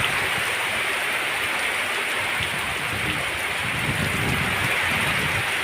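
Steady rain pours near the seashore among mangroves and houses, a dense continuous hiss of drops on surfaces, loud and even throughout with no voices.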